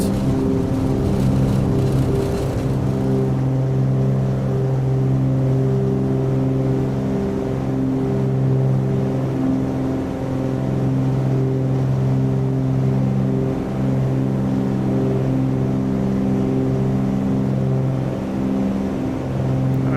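The twin piston engines of a Cessna 310R aircraft drone loudly and steadily at takeoff power, a constant, even hum heard from inside the cabin, with no speech.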